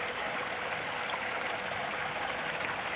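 Water from a backyard pond waterfall rushes in a steady, even broadband gush that holds without a break, loud and close.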